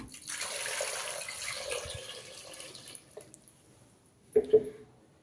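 Water pours steadily into a metal pressure cooker holding potatoes for about three seconds, then stops, followed by two soft knocks.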